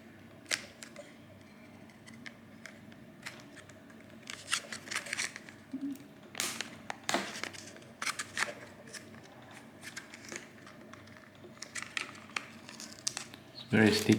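A DDR4 RAM stick's thin plastic package is opened, giving a run of close, sharp crinkles, clicks and snaps of flimsy plastic spread irregularly across the clip.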